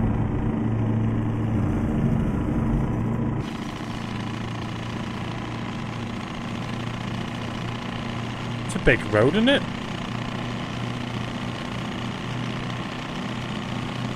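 A rattling, rough-running vehicle engine idles and drones steadily throughout, close and fairly loud, with a brief spoken remark over it partway through.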